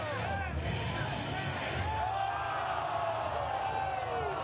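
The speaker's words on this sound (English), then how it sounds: "It's funny because you hear how the crowd is." Tournament crowd reacting during a fighting game match, a continuous roar of babble and whoops that swells and falls, loud and close, with a commentator's voice running over it.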